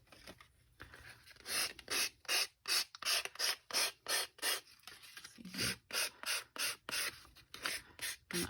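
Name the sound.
hand file sanding and distressing card edges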